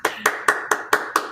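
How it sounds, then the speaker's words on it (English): Claps ring out in a steady rhythm, about six sharp, evenly spaced hand claps close to the listener as a guest is welcomed at a live hockey preview show. "Put your hands together"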